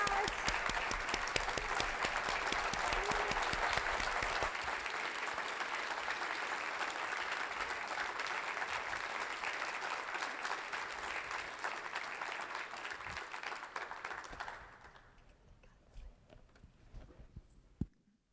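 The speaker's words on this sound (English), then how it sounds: "can we give them another big round of applause?" Big round of audience applause for a student alumni panel at a charter schools conference, a dense sustained roar of clapping for about fifteen seconds before fading to scattered claps.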